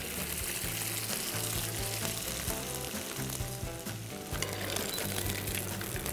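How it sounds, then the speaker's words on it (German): Quinoa deep-fries in sunflower oil in a pan, giving a loud, steady, crackling sizzle close to the mic throughout, with no voices. "In die Pfanne rein tue ich ein bisschen Sonnenblumenöl, mit dort rein tue ich jetzt meinen Quinoa ausfrittieren."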